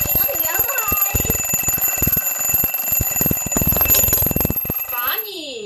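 A cheap alarm clock rings very loudly in rapid repeated electronic beeps with a shrill tone, dense and continuous for several seconds before stopping near the end.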